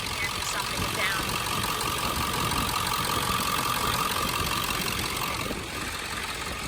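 A 1999 Ford F250 with a 7.3 Powerstroke diesel and nearly 250,000 miles idles up close. It makes a loud, steady clattering rumble that runs unbroken throughout, with a voice faintly underneath.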